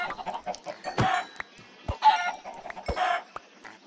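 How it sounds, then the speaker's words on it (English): Chickens in the video game Minecraft cluck in short, separate bursts, several sharp clucks spaced across the moment, fairly close and at moderate volume with no voices. "Yeah, we're gonna kill all these chickens."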